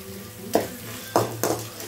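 Crushed ginger and garlic sautéing in a pan as a spoon stirs, making three short scraping strokes over a low, steady sizzle, close and fairly quiet, with no voices.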